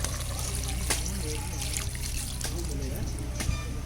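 Water pours steadily into simmering chicken curry on a wood-fired stove, a continuous splashing trickle with a few clinks and bubbling sounds mixed in.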